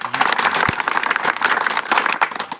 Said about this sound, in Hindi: ताली बजाओ इस बात पे